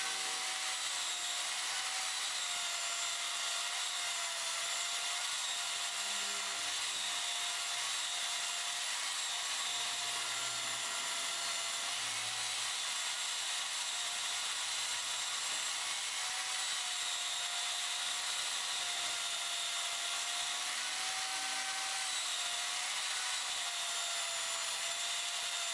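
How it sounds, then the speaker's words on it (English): A belt sander grinds a wooden maddock handle with a steady, continuous abrasive hiss and a faint whine, holding at moderate level for the full duration with slight variations as the wood is pressed against the belt. "Let's take this to the belt sander and sand it."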